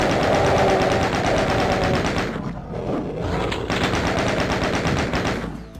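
Rapid, heavy gunfire from the video game Doom, continuous loud automatic shots with a brief dip midway, set against a pounding game soundtrack.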